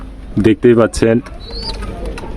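Pigeons in a loft housing golden pigeons and their young give a few short, low, throaty coos close up, mixed with a man's nearby speech.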